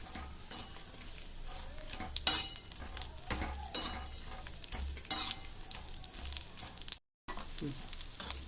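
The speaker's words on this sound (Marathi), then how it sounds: "तेल चांगल्या प्रकारे गरम झालेलं आहे आता मी त्याच्यामध्ये बोंबील टाकणार आहे त्याला हलवून घ्यायचं आहे" Bombil fish frying in hot oil while being stirred, giving a continuous close sizzle broken by spatula scrapes and occasional clinks of metal on the pan, with one sharp knock and a brief dropout.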